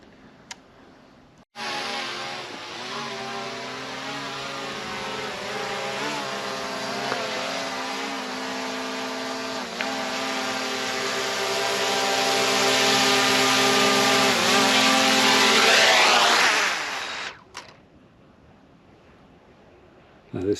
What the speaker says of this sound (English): I love that drone.